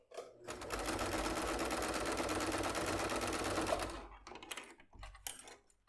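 A sewing machine stitches a seam on a zippered bag, running in a close, steady whirring burst for about three and a half seconds, then stopping and giving a few short stuttering spurts.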